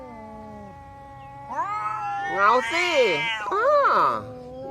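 Two cats yowl and caterwaul at each other, drawn-out rising and falling wails growing louder and harsher, with a person speaking briefly nearby.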